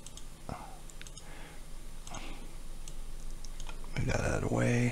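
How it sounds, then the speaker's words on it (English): Light, quiet tapping on a computer keyboard while working in Revit electrical design software, with soft scattered clicks and a voice speaking near the end. "If I can type."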